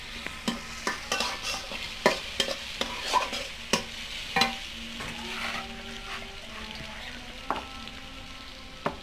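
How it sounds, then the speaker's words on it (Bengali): Chopped onion and green chilies sizzle softly in hot oil while a spoon scrapes and taps the pot in repeated irregular strokes, close and fairly quiet. "ভাজা তেলে পেঁয়াজ, কাঁচামরিচ এগুলো দিয়ে ভালোভাবে নাড়াচাড়া করতে হবে।"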